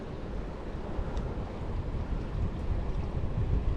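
Wind blowing at a shoreline during lure fishing, a steady broad rushing roar buffeting the microphone with surf-like wash underneath, constant and fairly loud with no talking.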